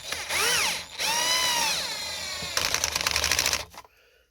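A cordless screwdriver whirs in close, loud bursts, its motor pitch rising and falling as it drives bolts into a Ford Fusion fog light mount, ending with a rapid ratcheting buzz before stopping.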